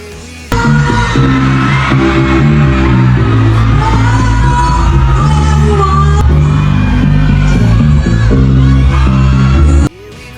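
Crowd shouting and cheering at an outdoor festival performance in Roxas, Capiz, as actress Bea Alonzo steps onto the stage, a loud continuous roar of many voices with music underneath that cuts off abruptly near the end.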